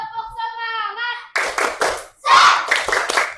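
Children in a classroom perform a tepuk semangat clapping routine, a sung or chanted phrase followed by bursts of loud group claps in a rhythmic pattern, with young voices calling out between them.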